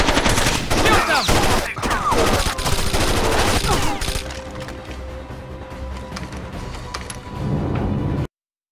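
Rapid gunfire from Rainbow Six Vegas 2 on PS3 rattles in dense bursts with sharp splintering impacts for about four seconds, then thins to scattered distant shots and a low rumble before cutting off.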